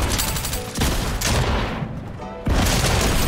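Rapid gunfire in Fortnite, loud dense bursts with a sharp burst near the start and another heavy volley near the end, no talking.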